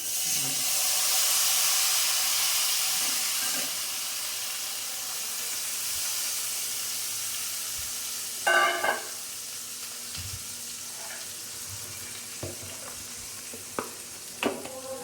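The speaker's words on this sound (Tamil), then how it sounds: "நல்லா வறுத்ததுக்கப்புறமா கெட்டியாக கரைச்சி வச்சுருக்கிற புளியை அதில் விடணும்." Thick tamarind water is poured into a pan of roasted spice mix, giving a loud steady sizzle and hiss that fades to a gentler simmer, with occasional scraping clatter as it is stirred. No voices.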